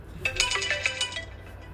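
A phone ringtone plays indoors, a rapid series of bright electronic tones repeating for about a second before fading, clear and fairly close with no talking over it.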